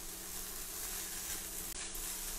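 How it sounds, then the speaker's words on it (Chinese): Bean sprouts stir-fry with salted egg fried rice in a wok, giving a steady, even sizzle and hiss of frying close by, with no voices. "豆芽放进去跟它炒一下"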